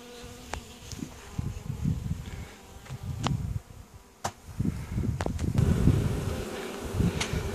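Honey bees buzz busily around a hive with a third box added, a close, fluctuating swarm hum with occasional sharp clicks and knocks of frames being handled.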